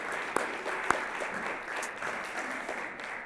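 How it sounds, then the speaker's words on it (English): An awards audience at a science championships ceremony claps at moderate volume, a few sharper individual claps popping out near the start over a steady wash of hands. "so we'll give him a round of applause."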